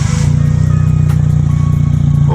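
Subaru Impreza project car with a swapped 20-valve blacktop engine on individual throttle bodies running right after start-up, a loud, close, steady low idle rumble with no talking.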